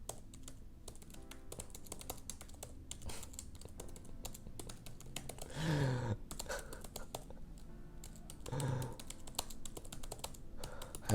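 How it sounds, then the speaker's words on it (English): Rapid, steady typing on a computer keyboard as The Great Gatsby is copied out, dense close clicks and key taps with brief louder bursts, a few faint murmurs underneath. "I should be focusing on what I'm typing."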